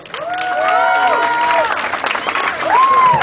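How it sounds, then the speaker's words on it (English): A comedy show audience claps and cheers loudly and continuously, while a voice speaks over the noise. "So if you guys give him a big round of applause, here comes Paul Kim."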